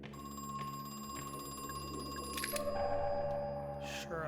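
A telephone rings inside the horror video game Crow Country, a bright electronic bell repeating over a humming, tonal game soundscape with a few clicks and no talk.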